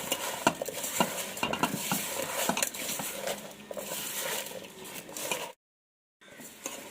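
A spoon stirs spices and chili powder into tomato rasam in a pot, giving steady scraping and clinking with a faint sizzle underneath, broken by a brief silent gap near the end.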